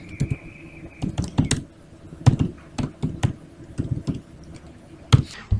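Computer keyboard typing in short irregular bursts of crisp clicks, fairly close and alone, with brief pauses between keystroke runs while working in web design software.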